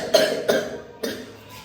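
Three short, close coughs from one person, spaced about half a second apart, each a harsh burst that fades quickly, with no talk around them.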